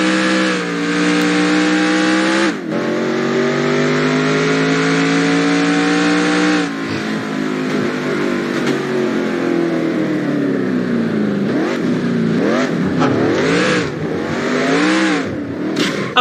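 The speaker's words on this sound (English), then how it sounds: "Alright, we gotta redo the burnout." Race car in the NASCAR Racing 2003 video game doing a burnout, a loud continuous engine roar holding steady, then rising and falling in quick revs with wavering pitch, close and dominant.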